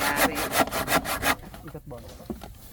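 A hand saw rasps through wood in quick, even back-and-forth strokes, loud and close, then slows to a few softer scrapes.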